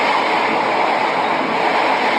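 An economy-class passenger train travelling from Jogja to Malang runs with a loud, continuous broadband roar and rumble, without any voices.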